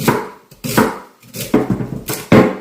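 Celery sticks being chopped with a knife, four or five separate bursts of chopping, each a quick run of close, loud blade strikes on a cutting board, with short pauses between them.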